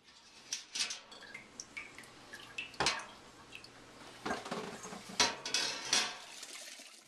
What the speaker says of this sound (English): Now I'll start straining our wort into my fermenting bucket